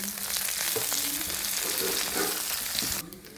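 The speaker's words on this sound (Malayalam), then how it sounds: "ഞാൻ കരിയാപ്പില കൂടെ ഇടുവാണ്" Curry leaves hitting hot oil in a pan, a loud, dense crackling sizzle that holds steady for about three seconds, then drops off abruptly.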